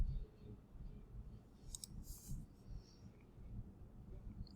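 Arrow keys on a computer keyboard get a few faint, quick presses while nudging an object in TinkerCAD, heard as light clicks over a quiet room hum.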